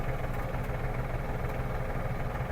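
A small Iseki TG-333 Japanese mini tractor engine runs steadily with a low, rumbling drone and a constant vibrating hum, close and unbroken.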